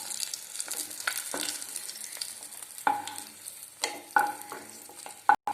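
Curry leaves and salted, sun-dried chilies crackle and sizzle in hot oil with steady frying hiss, broken by sharper pops and spatters and the scrape of stirring, close and fairly loud throughout.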